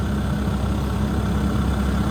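A dozer's diesel engine idles close by, a loud, steady low rumble with a constant throb and no breaks, with no voices over it.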